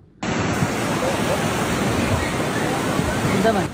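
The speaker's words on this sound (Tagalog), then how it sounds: "nakunan din ng video ang pagragasa ng tubig baha na nilamo na ang ibabang bahagi ng kabahayan" Torrent of floodwater from Typhoon Tino surging through the lower floors of houses in Danao City, Cebu, a loud, continuous broadband rush that runs unbroken with no voices over it.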